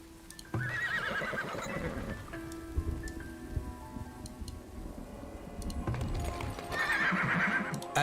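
Horses whinny loudly at the start and again near the end in the settlement-building video game Farthest Frontier, with steady clip-clopping hooves and a soft patter of rain underneath.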